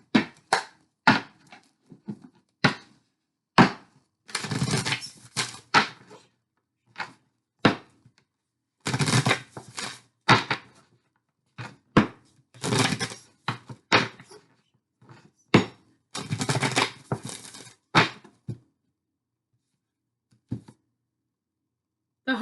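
Tarot cards are shuffled and drawn for a Leo love reading, with repeated bursts of riffling and short thumping taps spread unevenly across the stretch, close and fairly loud, with no voices.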